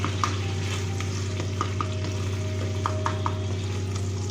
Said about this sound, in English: We'll mix it